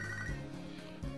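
A short electronic phone ring plays from the Pokémon Sacred Gold video game: a steady, bright chiptune-style tone, moderately loud and alone, with no voices.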